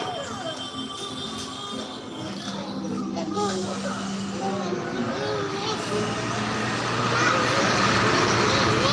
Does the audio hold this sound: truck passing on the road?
yes